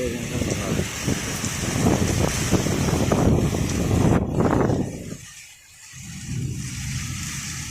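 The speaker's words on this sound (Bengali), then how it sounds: "আমরা ঘর থেকে বার হতেই পারছি না এত ঝড়" Strong storm wind gusts around a house, buffeting roughly and loudly against the microphone, briefly dropping near the end, with muffled voices underneath.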